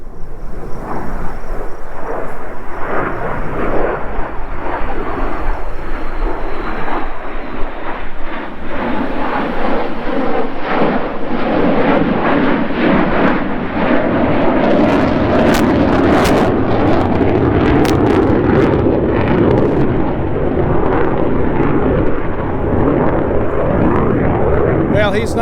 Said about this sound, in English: here comes a B1 in.